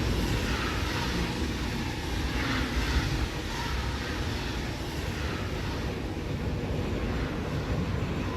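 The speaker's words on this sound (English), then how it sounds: "Can you hear anything I'm saying over this train?" A loud train in the game Satisfactory roars continuously at close range, a dense, unbroken mechanical drone with faint swells in intensity.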